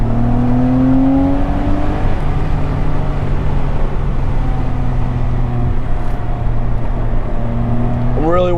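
Porsche sports car driven hard through a corner on a famous US road, its engine a steady loud drone with rising revs near the end, heard from inside the cabin along with road and wind noise.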